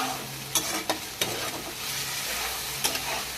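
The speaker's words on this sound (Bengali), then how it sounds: "লবণটা দিয়ে আবারও ভালো করে কষে নেব।" Ridge gourd curry being stir-fried with salt in a pan: a steady, close sizzle with several sharp spatula scrapes and clacks against the pan.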